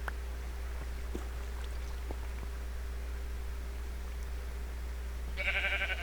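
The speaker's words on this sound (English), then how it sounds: "And here's a sheep." A single sheep in the Minecraft video game bleats once near the end, a short, clear synthetic call over a quiet, steady hiss.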